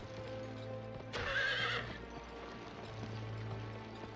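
In the Western video game GUN, a horse gives a sharp, loud whinny lasting under a second, set against a quiet ambient bed with faint hoofbeats and a steady low background tone.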